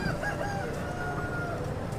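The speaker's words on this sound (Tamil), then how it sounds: "எங்கள் கோழியெல்லாம் எப்படி படுத்துருக்குதுன்னு பாருங்கள்." A rooster crows at a busy Saturday poultry market in Annur, its call rising over constant clucking and chatter from the chickens nearby.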